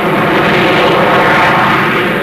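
American X-15 rocket space plane in flight after launch from a B-52, a steady broad engine roar holding at constant loudness throughout, no voices.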